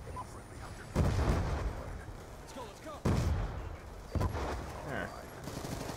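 Three heavy shotgun blasts boom out in Black Ops 2, one at a time with gaps of one to two seconds between them. Each is loud and followed by a short rumbling tail, with faint voices in the background.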